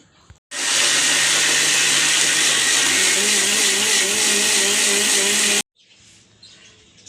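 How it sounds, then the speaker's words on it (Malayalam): An electric mixer grinder grinds coconut for a fish curry, running loud and steady for about five seconds with a high whirring drone that shifts pitch partway through, then cuts off abruptly. "എനിക്ക് ആവശ്യത്തിനുള്ള നാളികേരം അടിച്ചെടുക്കട്ടെ"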